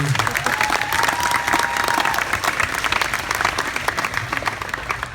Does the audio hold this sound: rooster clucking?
no